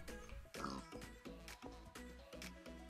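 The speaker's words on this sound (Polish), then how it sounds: "Świnia, pcham cię." A pig in the Minecraft video game oinks several times in quick succession, giving short nasal grunts with brief gaps between them, quiet and close.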